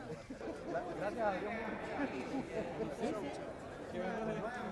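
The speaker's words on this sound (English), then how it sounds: "An audience may only hear their chatter" Audience chatter in a cinema: a steady murmur of many overlapping voices, faint and continuous throughout, with no single voice standing out.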